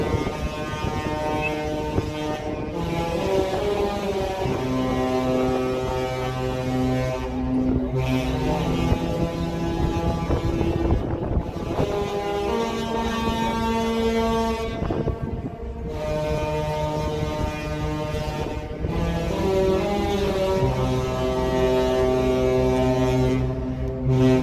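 Ship horns on the Sky Princess cruise ship, departing through the channel toward the open sea, blare out a tune in long, loud sustained tones with short gaps between phrases, carried over steady wind noise.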